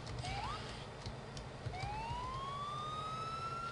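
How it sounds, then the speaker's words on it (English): Police car siren stuck on in a New York State Police Crown Victoria patrol car, a rising wail that repeats and then holds steady over traffic rumble, fairly faint, with no talk. "It froze with the siren on."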